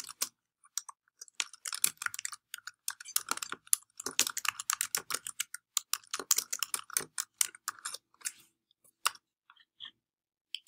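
Rapid, close clicking of keys on a computer keyboard, in irregular bursts with brief pauses and a quieter tail near the end, with no voices.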